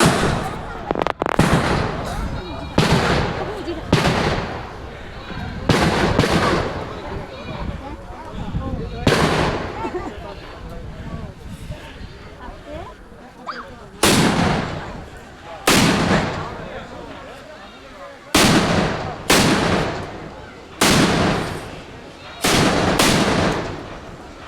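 Firecrackers burst again and again at a Dol festival gathering, loud sharp bangs arriving in uneven clusters across the whole stretch, each one cracking out close and booming above crowd noise and voices.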